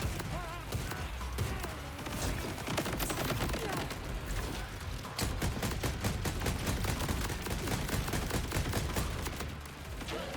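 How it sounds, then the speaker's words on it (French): Grenade blasts and rapid gunfire in the video game Borderlands 4, a dense, continuous barrage of loud shots and explosions running the whole length, with a voice faintly under the din. "j'envoie juste des grenades, ça devrait suffire."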